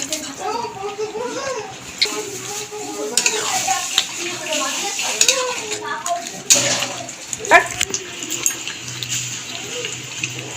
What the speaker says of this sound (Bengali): ধোয়া জলটাও দিয়ে দিলাম কড়াই।